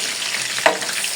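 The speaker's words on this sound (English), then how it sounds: "When you're frying your meat, add onions" Meat and onions fry in a pan for a pepper stew, giving a steady close sizzle with a brief sharper crackle partway through.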